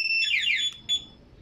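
Two-way alarm system installed on an electric bike, giving a short, loud electronic warble of rapidly sweeping tones, then a brief chirp after a pause, close and alone.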